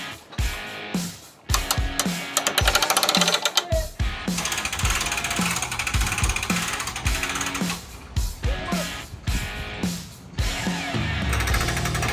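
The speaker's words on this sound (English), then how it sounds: "our winch decided to give up the ship." A winch hauls a roof truss up with a rapid mechanical clatter and ratcheting gear noise, loud and continuous with brief pauses and clanks, and the machinery sounds strained.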